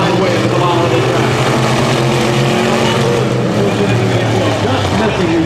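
Race cars roar around a speedway track in a dense, loud, continuous engine drone, with a commentator talking over the noise.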